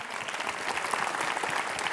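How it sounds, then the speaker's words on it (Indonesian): An audience applauds steadily for a woman at an Indonesian motivational stage event, a dense, even wash of many hands clapping at once, close and sustained for the whole stretch with no voices standing out. "Tepuk tangan buat Ibu"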